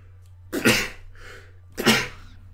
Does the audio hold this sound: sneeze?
yes